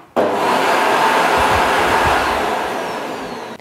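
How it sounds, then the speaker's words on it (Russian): Vacuum cleaner switching on abruptly and running with a loud, steady broadband roar that fades slightly toward the end, with no speech. "Основная же масса пылесосов работает с уровнем шума от 70 до 80 дБ"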